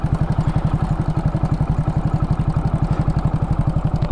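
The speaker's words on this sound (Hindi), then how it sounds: "देखो अभी गाड़ी में से कितनी कम आवाज़ आ रही है, अब मैं हल्की सी रेस दूंगा तो बहुत ही हल्की आवाज़ बढ़ेगी" A motorcycle engine idles close by with a steady, fast even thump, then picks up slightly under a light rev before settling; no voices.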